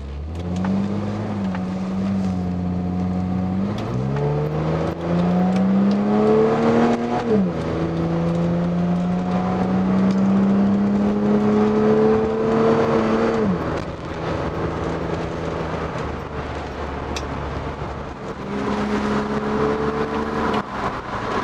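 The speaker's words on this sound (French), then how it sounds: "On va mettre un coup de kick down là" BMW E30 engine revs up hard on kickdown during a mountain drive, heard from inside the car as rising engine pitch climbs through gears, steady and close with road noise underneath.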